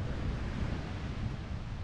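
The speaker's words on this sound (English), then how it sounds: "Feels good to be back on the coastline, back with the Pacific Ocean." Pacific Ocean surf at Zuma Beach in Malibu, California, a steady broad rushing wash of waves mixed with wind across the microphone, with no voices.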